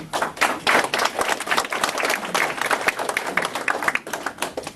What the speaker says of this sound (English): ladies and gentlemen, round of applause for Antonio DeMarco.